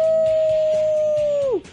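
A man imitates a wolf howl with his voice, holding one loud, steady tone close to the microphone for about a second and a half before it drops sharply and cuts off.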